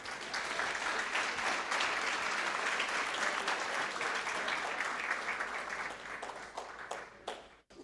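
Applause at a board meeting: a crowd claps steadily and fairly far off, dense and even, then thins into a few scattered claps and stops.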